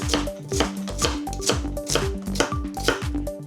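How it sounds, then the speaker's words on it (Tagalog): A knife slices through onions on a board in quick, even strokes, each cut a crisp tap in a steady rhythm, close and fairly quiet. "Simple lang ang pag-slice ng sibuyas."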